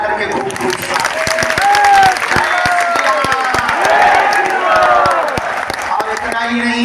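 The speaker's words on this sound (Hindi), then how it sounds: "हम सब जोरदार ताली बजा करके खूब खूब स्वागत" A large crowd at Bageshwar Dham applauds loudly in welcome for President Droupadi Murmu, dense clapping with cheers swelling and holding steady while a voice speaks over the noise.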